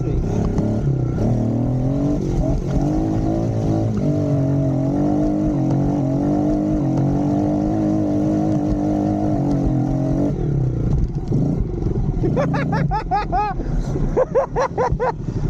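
A modified Kawasaki KLX 110 dirt bike engine revs hard during a top speed and drag race test, holding a loud, close buzzing drone that climbs in pitch, then drops off as the engine note rises again in sharp, rapid revs.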